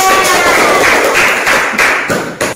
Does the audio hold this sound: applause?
yes